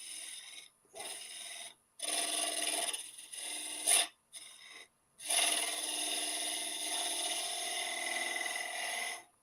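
A Little Wonder cup tool cuts into wood spinning on a lathe, giving a close, raspy scraping hiss in several short bursts followed by one longer steady cut.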